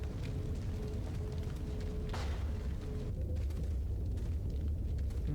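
A rocket launcher blast in Resident Evil 4 produces a dense, roaring explosion with sustained rumble that stays loud and unbroken for the whole stretch, with a brief crackling burst partway through.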